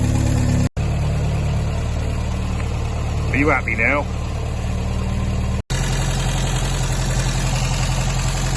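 A Sunbeam Alpine car engine idles steadily at close range while warming up after new plugs and water, a continuous low running drone, while someone briefly speaks over it partway through.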